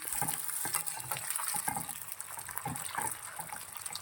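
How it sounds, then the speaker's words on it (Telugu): Potato pieces fry in hot oil in a pan, a constant bright sizzle with soft stirring scrapes and occasional pops, close and steady throughout. "బాండీ పెట్టుకొని ఆయిల్ హీట్ ఎక్కినాక ఈ పొటాటో పీసెస్ని ఆయిల్లో ఫ్రై చేసుకోవాలి."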